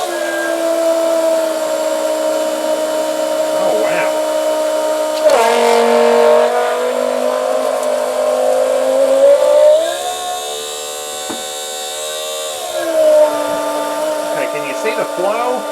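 An electric pump drives diesel fuel through a small home fueling setup with a steady, close whirring drone that shifts pitch as the flow changes, under occasional background talk.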